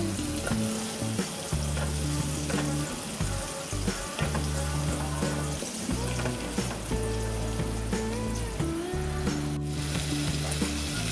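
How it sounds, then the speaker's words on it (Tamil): Okra sautés in a pan with onions, hissing and sizzling loudly and steadily while repeated stirring strokes scrape and clatter against the pan; no one talks. "வெண்டைக்காய் சேர்த்ததுக்கப்புறமா இதோ நல்லா இந்த மாதிரி வதக்கி விட்டுருங்க"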